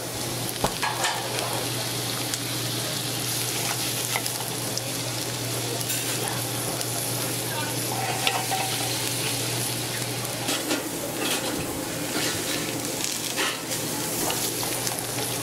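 A crab cake fries in butter and flour in a skillet with the heat shut off, a steady close sizzle with occasional clicks and faint clatter, no talk over it.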